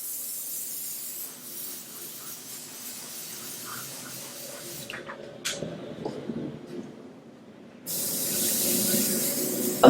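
An airbrush sprays varnish over painted nails with soft bursts of close, airy hiss, then a longer louder spray near the end, with no voices.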